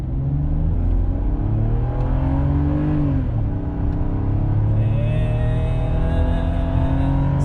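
A BMW, one of an E60, E90, E39 or E53 X5, accelerates hard from 0 to 60, its engine note climbing steadily through the gears with a gearshift dip midway, loud and close from inside the car.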